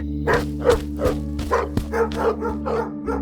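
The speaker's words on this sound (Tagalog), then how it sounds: "rinig na rinig pa rin ang galit na tahol ng mga aso roon" Several dogs bark angrily in a rapid, regular series of about a dozen loud barks near a mansion, over a steady low hum with no talking.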